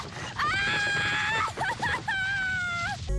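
A cartoon character screams as dropped groceries send eggs hitting the ground, a loud sustained high-pitched shriek followed by shorter wavering cries and a second long scream, close and alone.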